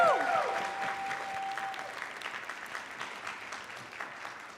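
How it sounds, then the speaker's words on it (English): A conference audience at a TEDx event gives a sustained round of applause, fairly loud at first and tapering gradually, with a brief electronic tone near the start. "Let us give a huge round of applause for ourselves."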